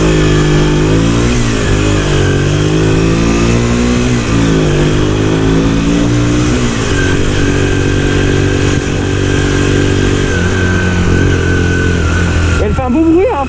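A Magpower Biggers 50cc motorbike, restricted and fitted with a baffle, revs and accelerates with a steady buzzing engine note that rises in pitch, loud and close throughout with wind noise.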